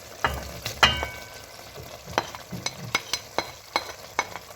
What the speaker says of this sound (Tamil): வெண்டைக்காயை சேர்த்து இந்த மாதிரி நல்லா மிக்ஸ் பண்ணி விடுங்க